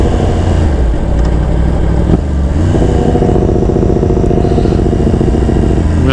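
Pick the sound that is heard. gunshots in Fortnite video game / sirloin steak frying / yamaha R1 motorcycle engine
yamaha R1 motorcycle engine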